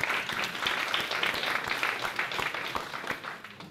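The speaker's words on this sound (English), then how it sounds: "Absolutely, she deserves applause." An audience claps for a volunteer at a community talk, a dense, steady round of applause at moderate loudness with no voices on top, lasting the whole stretch.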